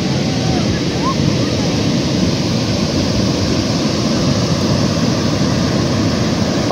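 Steady ocean surf rolls in at Tondaligan Beach in Dagupan, Pangasinan, a continuous broadband wash of breaking waves heard loud and close throughout, with faint background voices blended into the roar.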